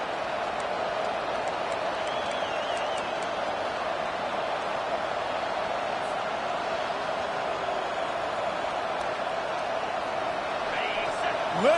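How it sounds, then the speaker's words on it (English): Crowd noise at a Texas vs Texas A&M college football game, a steady, dense roar that fills the stadium and holds for the whole stretch, with a play-by-play voice faintly over it. "Listen to this crowd just shaking the girders of this place, trying to help their defense."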